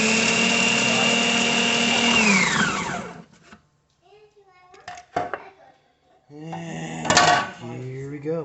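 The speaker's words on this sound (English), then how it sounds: "give it just another little blend" Blender whirring as it purees pesto, a loud steady motor whine for about three seconds that winds down abruptly, followed by a voice speaking.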